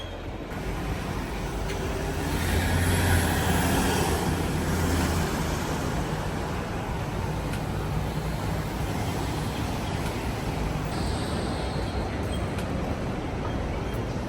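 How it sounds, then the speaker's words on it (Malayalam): A tram rolling along a city street in Sydney, a steady broad rumble that swells past and holds under general traffic noise, with no talk. "അങ്ങൊരു ട്രാം പോകുന്നുണ്ട്"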